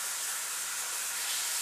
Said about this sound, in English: If you hear some sizzling, yes, there's some cooking going on in that direction.